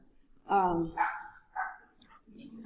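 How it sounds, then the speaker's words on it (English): A dog barks three or four times in quick succession inside a hall during a speaking event, each bark clear but moderate in level, the last ones softer. "I hear the dog."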